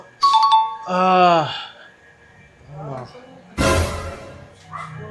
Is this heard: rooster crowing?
no